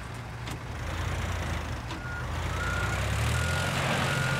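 A crane vehicle in the video game Teardown reversing: steady repeated backup beeps over a low, constant diesel engine rumble that swells slightly, with no speech.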